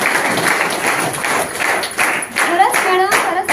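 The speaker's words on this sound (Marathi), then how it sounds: "जोरदार टाळ्या झाल्या पाहिजे" Bursts of audience clapping mixed with a speaking voice, loud and close, with uneven surges of claps over a few seconds.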